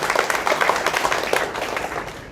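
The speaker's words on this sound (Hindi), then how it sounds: "चलो तालियां बजा लो या जो भी है।" A seated audience at a career counselling session claps together for a couple of seconds, a dense even patter of hands that swells briefly and then thins out, fairly close and with no talking over it.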